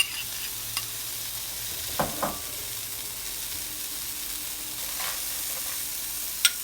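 Mushrooms and frozen peas stir-fried for fried rice in a hot pan, a soft continuous sizzle with a few brief clinks and scrapes of the spatula, close and fairly quiet, with no talking.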